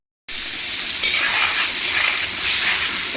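Soybean and potato pulao sizzles and hisses steadily in the pan after a splash of water, a continuous close frying hiss starting abruptly and holding loud throughout.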